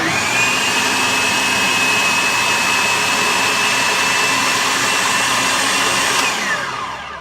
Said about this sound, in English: she's getting ready to blend this without the olive oil